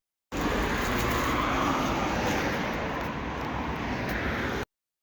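Road traffic near a bus, a steady low rumble of passing vehicles and engine noise, moderately loud and unbroken for about four seconds, with no talk.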